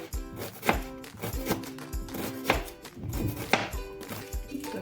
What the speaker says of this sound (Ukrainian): Сюди ж нарізаю невеличку червону цибулину напівкільцями тоненькими.